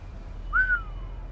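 A single short whistle from a person, a quick rising then falling glide, clear and close over a quiet background.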